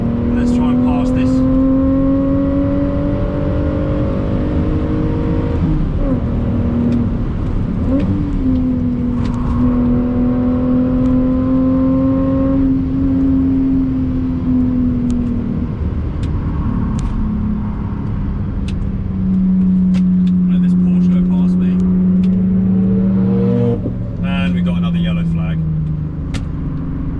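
A BMW Z4 on fast laps of the Nordschleife: a loud, close in-car engine drone holds steady and swells, dips as it shifts, and climbs again under constant wind and road roar.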